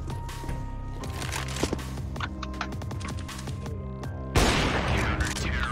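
Rapid gunfire from the video game CS:GO, dense overlapping shots and bursts with sharp cracks, steady loud throughout and a heavier blast near the end, game sounds layered with a faint voice.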